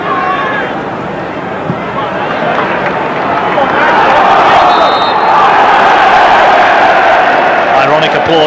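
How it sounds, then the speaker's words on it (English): At Highbury, Everton fans in a football stadium crowd swell into noisy applause and cheering partway through, the roar rising and holding loud to the end, with match commentary running over it. "ironic applause from the Everton fans as referee Halsey gives what they feel is a rare free kick their way."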